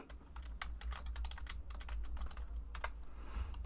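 Rapid, uneven clicking of keys on a computer keyboard continues close up against a low steady hum, with no voices.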